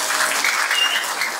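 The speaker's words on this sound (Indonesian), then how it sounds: "Tepuk tangan untuk para sepuh sadayana." A crowd at a Sundanese Maulid Nabi sermon applauds the elders, a short, loud, even roar of many hands clapping with no talk over it.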